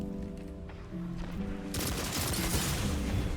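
Rapid bursts of gunfire in a Destiny Trials match, a steady stream of weapon shots that swells louder and denser partway through, with no talk over it.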